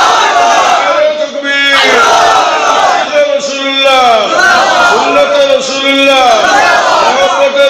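A crowd shouts the takbir together in unison in response to a preacher at a Bangla waz sermon, loud massed voices rising in repeated swelling calls.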